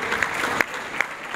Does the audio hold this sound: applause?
yes